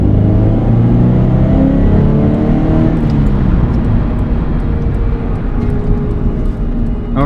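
A Scion FR-S fitted with an electric supercharger accelerates in third gear from fairly low RPM. It gives a loud, steady engine drone with rising harmonics and a constant rumbling roar throughout. The sound is heard close up from inside the car.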